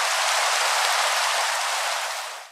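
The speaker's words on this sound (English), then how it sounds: "and it's raining" Steady rain in the Minecraft video game, a dense continuous hiss that stays loud and even before fading slightly at the end, with no voices.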